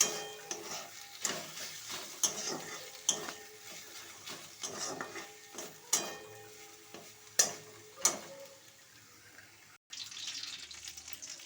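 Methi greens stirred in a pan with a little jaggery, heard as repeated sharp scrapes and knocks of a spoon against the pan over a low, quiet background, with a brief gap near the end.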